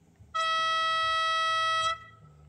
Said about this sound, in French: Alors on va faire l'avertisseur. L'avertisseur haut,